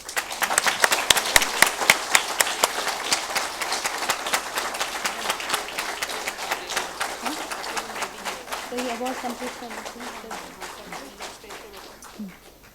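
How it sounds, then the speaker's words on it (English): Enthusiastic crowd applause at an International Day of Persons with Disabilities award ceremony, many hands clapping loudly and continuously, gradually thinning toward the end, with faint voices underneath. "One big round of applause."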